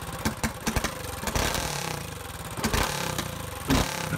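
A small engine fitted with a Tillotson carburetor and running without a fuel pump sputters and pops unevenly, running rich in bursts with irregular firing, fairly close and with no talking.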